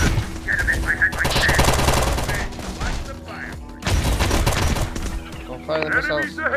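Rapid bursts of gunfire in the Terminator Dark Fate Defiance video game, loud and sustained with a brief lull midway, mixed with game effects and faint voices.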